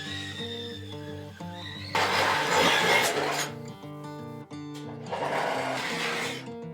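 Holes being cut into a car body panel for radiator plumbing on a SuperBoxster build, two loud broadband bursts of grinding or rasping over a steady background hum, each lasting a second or two.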